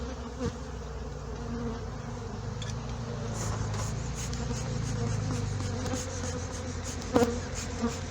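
Honey bees buzzing around an open hive during a beekeeping inspection, a steady close swarm drone with a few louder passes and small handling knocks.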